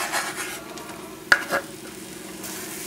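Vegetables sauté in olive oil in a pan for beef chili with white beans, a soft steady sizzle with one sharp utensil clink and a quick stir partway through.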